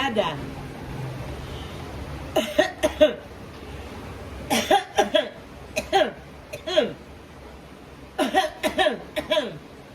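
Sharp coughs come in short clusters of two to four, spread across the clip, with quieter room noise in between.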